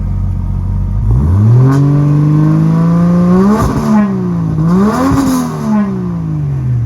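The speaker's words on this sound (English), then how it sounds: "if you bring the revs up a little bit" A turbocharged, 1000 wheel-horsepower Ford Barra engine in a Ford Territory SUV idles, then revs up twice in strong rising-and-falling sweeps, loud and close, settling back to a steady burble between pulls.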